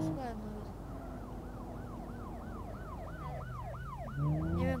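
A police siren in the BeamNG.drive driving game wails in a steady rising and falling cycle under a continuous engine drone. It is joined by a louder engine surge near the end.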